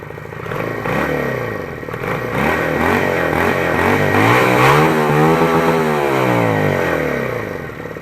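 Junak M11 Cafe motorcycle with a not-yet-warm engine revving close by, rising and falling several times in long swells with mechanical clatter.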